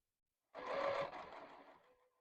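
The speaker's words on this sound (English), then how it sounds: "Lift the presser foot, turn the quilt, and start stitching down the other side." A sewing machine stitching a small ghost-shaped Halloween quilt, one short whirring run of about a second and a half that starts abruptly and tapers off, close and fairly quiet.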